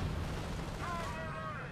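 Artillery fire booms in the World War II strategy game Company of Heroes, a dense, rumbling barrage filling the short stretch with a continuous low roar while someone talks over it.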